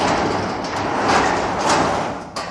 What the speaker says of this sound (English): I'm gonna open up this garage door real quick.